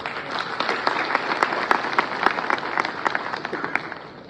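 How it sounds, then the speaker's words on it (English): A crowded hall bursts into steady applause at an International Literacy Day event, dense clapping filling the space with sharp individual claps popping out over a continuous wash, moderately loud and sustained throughout. "it deserves a huge round of applause"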